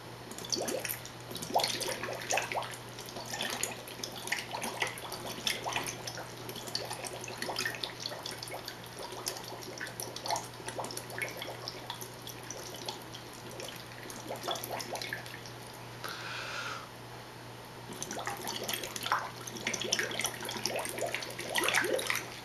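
Liquid bubbling and gentle watery trickling run continuously at a moderate level, with small drips and splashes scattered through, over a steady low hum.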